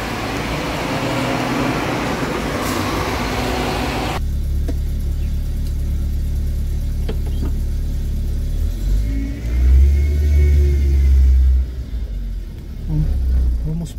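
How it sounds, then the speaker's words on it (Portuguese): City bus passing by on a street near a Sunday open-air market in Aparecida, a steady loud engine rumble and traffic noise that swells as it goes past, with a low roar rising near the end. "Ó, lindo ônibus."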